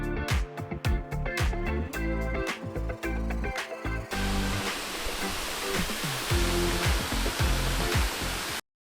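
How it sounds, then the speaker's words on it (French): A constant rushing roar of falling water, broadband and steady, with some clicking and tapping noises near the start before it cuts off abruptly. "on est juste aux cascades. Donc on va voir si le micro et la chaussette à poil elle marche"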